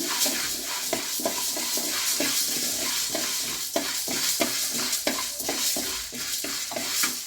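Black pepper and cumin seeds dry-roasting in a pan while being stirred, giving a rapid run of close scraping strokes over a soft continuous crackle, with no voices.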